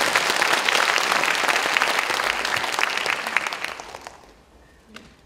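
An audience claps warmly to welcome performers onto a stage at a Korean concert. The steady, loud applause fades out near the end, leaving near silence with one last faint clap.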